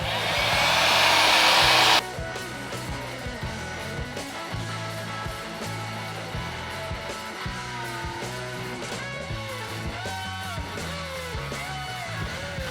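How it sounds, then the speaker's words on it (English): A heat gun shrinks tubing over a wiring harness on an 1987-93 Fox Body Mustang, giving a loud, steady blowing roar for about two seconds before it cuts off abruptly and music continues. "Come in with the heat gun."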